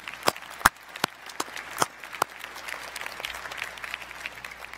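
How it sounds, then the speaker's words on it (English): A commencement audience at a law school ceremony gives scattered, uneven applause: a few sharp, loud individual claps over a faint, thin background patter. "let's give him a round of applause"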